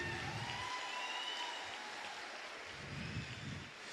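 An audience at a church sermon applauding, a steady wash of many hands clapping, fairly faint and distant, with no voices over it.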